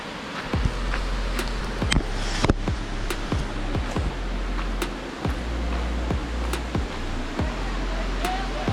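Steady broadband roar of water at the Delari waterfall in Raigarh, a continuous rushing wash with repeated sharp clicks and knocks over it, loud and close throughout.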